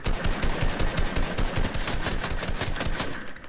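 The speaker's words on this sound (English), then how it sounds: "I can't even see who's shooting at me." Rapid automatic gunfire in a video game rattles in quick, loud bursts with closely spaced shots, sustained almost without pause.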